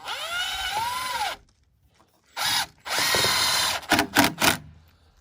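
A cordless drill whirs loudly, pauses, then drives again in a long burst followed by several short pulsing spurts as a screw seats into wood at a cabin build.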